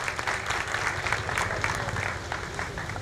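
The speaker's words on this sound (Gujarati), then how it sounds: "જોરદાર તાળીઓથી વધાવીએ" A crowd at a Ram Katha ground-breaking ceremony claps continuously in a sustained, even burst of applause lasting about three seconds.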